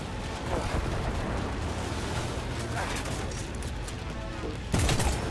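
Heavy, sustained gunfire roars in Cyberpunk 2077 as a dense, noisy barrage fills the whole stretch, with a louder burst near the end.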